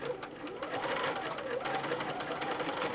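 A sewing machine runs steadily while stitching quilt fabric pieces from a charm pack, a continuous rapid mechanical whir at moderate volume with a faint voice underneath.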